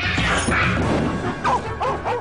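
A dog barks and yips repeatedly, several sharp calls near the end, while running around a horse pen, with a loud, busy background of knocking and clatter throughout.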